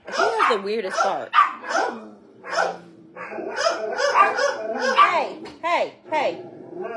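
A group of dogs barks and yips in irregular bursts nearby, some barks high and squeaky, with short pauses between volleys and a low growl mixed in.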